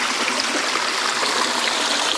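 Water running through a DIY sluice wash box used for gold prospecting, a steady, loud rushing and trickling flow with no pauses.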